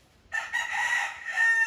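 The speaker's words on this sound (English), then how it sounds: "And obviously some roosters." A rooster crows on a historic estate property in Frederiksted, one clear, fairly loud call rising and holding for over a second against quiet surroundings.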